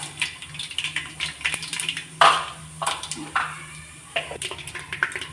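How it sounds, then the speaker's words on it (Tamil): Mustard seeds and urad dal spluttering in hot refined oil and ghee, with scattered crackling pops and short sizzling bursts close by, irregular and moderately loud, with no talking. "கடுகு உளுந்து பொரிஞ்சிருச்சு."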